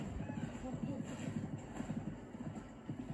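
Horse hooves in The Legend of Zelda: Breath of the Wild clatter in a steady, rhythmic clip-clop beneath a low background hum as the mount gallops along, the beats repeating evenly at moderate loudness.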